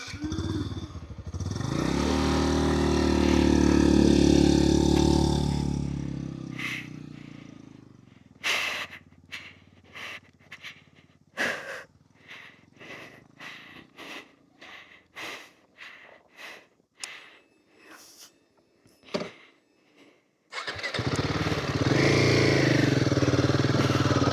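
A Royal Enfield Himalayan 450 motorcycle engine roars loudly at full throttle, then gives a string of sharp, choppy throttle blips with gaps between them before a final sustained roar.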